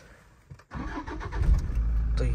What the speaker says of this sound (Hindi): तो एक बार गाड़ी को स्टार्ट कर लेते हैं।